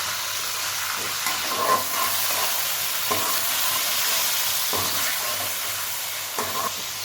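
Half a kilo of chicken in ginger-garlic paste sizzles and hisses steadily in a hot pan, with occasional stirring scrapes; close and continuous, no talking.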